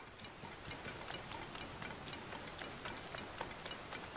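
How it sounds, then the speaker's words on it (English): Rain falls steadily on the Thunderhead Isles in the video game Zelda: Tears of the Kingdom, a soft, even patter and hiss kept faint throughout with light drop ticks. "Oh, and it looks like it's gonna rain forever."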